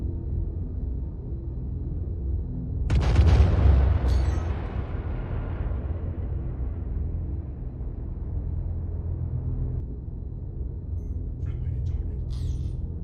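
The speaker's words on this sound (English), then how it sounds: "It looks like he fired 4 torpedoes at the Idris" Size 12 torpedoes strike the Idris ship in Star Citizen, a sudden loud blast followed by a long fading rumble over a steady low hum.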